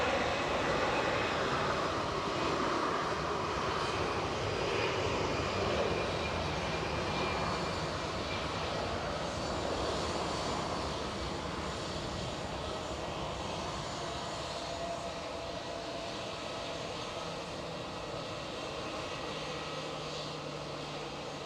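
British Airways airliner engines at Edinburgh give a steady, continuous roar for over twenty seconds. The sound is fairly distant and eases off gradually toward the end, with no voices.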